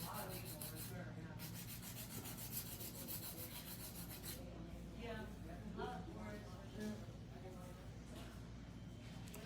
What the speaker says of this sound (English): I'm gonna use a fine sanding band and go through and sand everything down